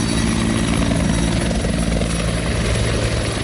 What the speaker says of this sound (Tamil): உத்தரப்பிரதேச மாநிலம் மீரட்டில் ஹெலிகாப்டர் மூலம் பூமழை பொழிந்து கன்வர் யாத்ரீகர்களுக்கு வரவேற்பு அளிக்கப்பட்டது.